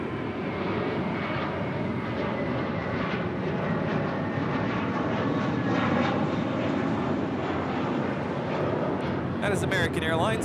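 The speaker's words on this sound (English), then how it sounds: "That is American Airlines Flight 2 departing to JFK on an A321." American Airlines Airbus A321 departing Los Angeles International Airport for JFK, a loud, sustained jet engine roar with rumbling low end that holds steady throughout, with a brief faint voice near the end.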